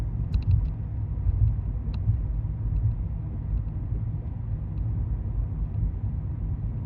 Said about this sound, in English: this is nice to drive down a street in a city like this